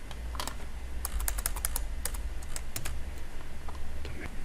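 Rapid clicking keystrokes on a computer keyboard while working in an Excel spreadsheet, including a Ctrl+Enter key combination, with irregular bursts of sharp taps over a low hum, close and moderately loud with no talking.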